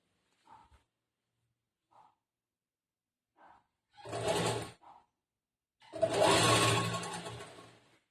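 A sewing machine stitching a kurta runs in short bursts: a few faint brief taps, then a louder whirring run of about a second and a longer two-second stitching burst, close and alone without talk.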